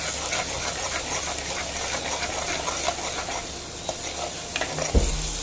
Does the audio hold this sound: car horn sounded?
no